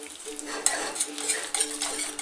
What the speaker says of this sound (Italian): Io lo aggiungo piano piano e inizio a mescolare